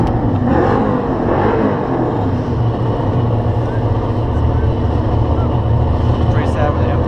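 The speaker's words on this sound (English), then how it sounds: "Pretty sad when the import sounds like it sounds meatier than the Mustang." An import car and a Mustang racing at a drag strip, a loud, continuous roar of engines at full throttle with voices mixed into the noise.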